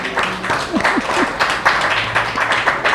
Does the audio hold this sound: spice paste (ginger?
no